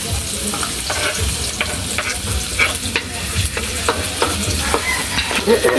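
Chopped onion and ginger sizzle loudly in hot oil for chicken feet adobo, with a constant crackling fry broken by scraping stirs of a utensil, close and with no talk.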